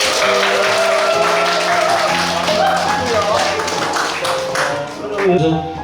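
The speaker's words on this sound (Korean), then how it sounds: "우리 모두를 위해서 박수 한번 드립니다" Applause from members at an alumni association's annual general meeting, steady clapping that runs throughout with voices mixed in underneath.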